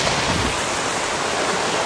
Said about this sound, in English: Nice little stream flowing down here. Straight into the ocean.